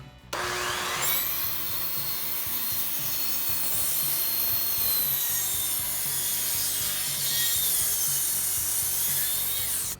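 A handsaw cuts through the wooden leg of an aquarium rack, giving a steady, close, rasping back-and-forth sawing that runs continuously with no talk.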